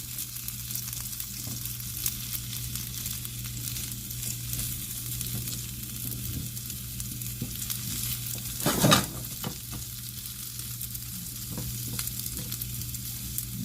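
Sausage and potatoes with garlic frying in a pan, a steady close sizzle with occasional scrapes of stirring and one louder clatter partway through, no talk.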